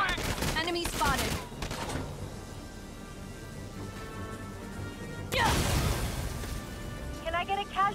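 Gunfire from the tactical war game Valkyria Chronicles 4 comes in sharp bursts at the start and a heavier volley midway, with quieter stretches, clicks and effects between them.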